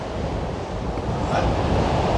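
Strong, steady wind on the coast buffets the microphone with a broad roar, and surf-like rushing swells slightly louder toward the end.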